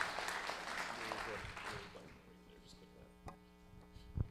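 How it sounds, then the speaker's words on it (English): Audience applause after an interview at a live real estate investors' association event in Omaha, a dense clatter of clapping for about two seconds that thins out and fades, leaving a steady electrical hum. "Give him a big round of applause."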